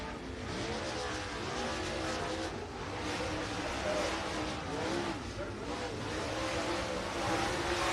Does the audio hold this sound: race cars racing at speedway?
yes